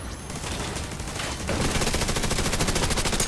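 A PDR rifle fires in rapid bursts in the shooter game The Division 2. After a busy battlefield opening, the fire becomes a fast, steady stream of sharp, loud shots.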